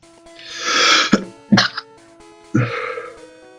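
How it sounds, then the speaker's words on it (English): A single sharp sneeze burst followed by a couple of short throaty coughs or snorts, close to the mic, with brief gaps between. "Sorry, had a wicked bad sneeze"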